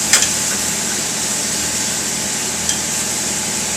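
Steaks turned in a hot pan with mango chutney, a steady loud sizzle and hiss with a couple of brief clicks as the meat is moved, close, no talk.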